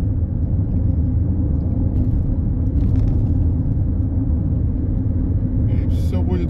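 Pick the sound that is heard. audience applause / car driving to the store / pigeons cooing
car driving to the store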